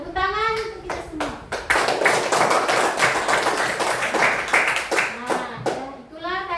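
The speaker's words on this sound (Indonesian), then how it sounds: "tepuk tangan untuk kita semua" Children in a classroom clap their hands together in a loud, close burst of quick claps. A teacher's voice and children's voices come through at the start and end.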